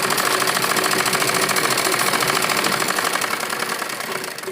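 A sewing machine stitches palazzo lining, a fast steady mechanical whirring with a rapid rhythmic needle clatter, close and continuous, easing slightly near the end.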